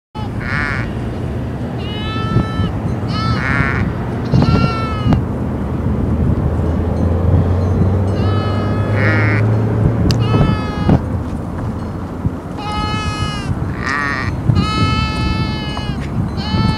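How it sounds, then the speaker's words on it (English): Sheep bleat repeatedly, loud and close, in wavering calls separated by short pauses, with a low steady hum underneath. "Sheep."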